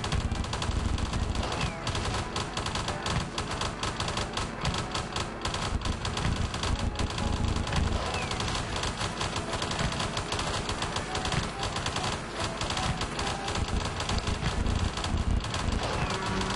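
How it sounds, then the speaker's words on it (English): Gatling guns rattle off in the strategy game Hydraulic Empire, a dense, continuous stream of rapid automatic gunfire with layered explosive bursts, loud and unbroken for the whole stretch with no talking. "And then just throw some more Gatling guns down."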